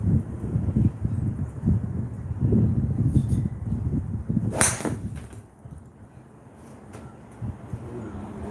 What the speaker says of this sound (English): the wind's come up